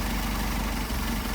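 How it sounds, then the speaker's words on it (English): An engine idles while its Solex 44PHH carburetors are adjusted, a steady, loud, unbroken rumble that fills the whole moment without talk. "hear the engine start to falter. It doesn't take much. These are very sensitive carburetors."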